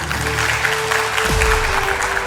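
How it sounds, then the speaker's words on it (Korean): A short burst of steady applause from lawmakers in the South Korean National Assembly, a dense even patter of clapping lasting a couple of seconds. "동료 의원들의 박수가 쏟아져 나왔다"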